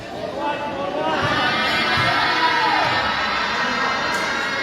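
Spectators at a basketball game between Phase 3B Boy and BTM cheer, whoop and shout in a loud, sustained roar with excited high voices mixed in.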